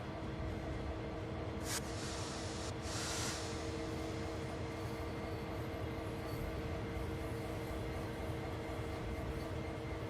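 Train rolling over track switches in Train Sim World 2 on the Clinchfield Railroad Elkhorn–Dante route, a steady low rumble and drone with a couple of brief hissing bursts early on, continuous and moderately loud.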